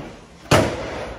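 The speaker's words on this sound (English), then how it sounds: "I'll just shut bonnet as well." The bonnet of a 1999 VW T4 2.5 TDI van is shut with a single sharp metallic slam, followed by a short ringing decay, close and loud.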